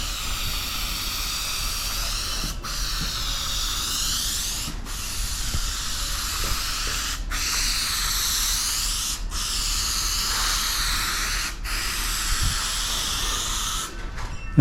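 Aerosol guide coat hisses steadily onto a 1963 Chevrolet Impala body panel during show-car paint prep, close and loud, in long bursts broken by short pauses, with no talking.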